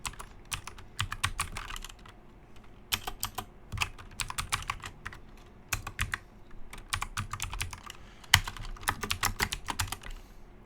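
Code for a Node.js and MongoDB project being typed on a computer keyboard: close, rapid bursts of clicking keystrokes broken by short pauses, with no voices.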